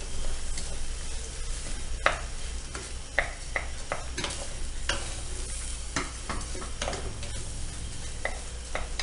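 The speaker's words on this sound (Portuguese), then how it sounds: "E eu frito bem esse arroz" Rice fries in a pan while being stirred, a constant close sizzle broken by frequent quick scraping and tapping strokes of a utensil against the pan.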